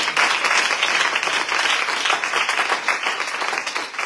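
A church congregation applauding, dense continuous clapping from many hands filling the room for several seconds.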